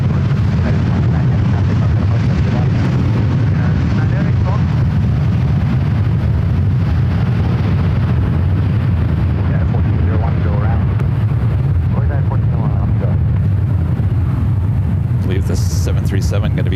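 A Boeing 757 jet rolls down runway 1 Right at San Francisco International Airport, giving a steady, broad engine roar with a deep low rumble that holds without a break, fairly distant, with faint voices underneath.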